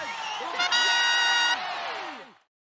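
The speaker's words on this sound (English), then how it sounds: "The sound of applause and big audience cheers." Cartoon circus audience applauding and cheering, a dense, loud wash of clapping and shouts that swells briefly in the middle, then fades out over about two seconds.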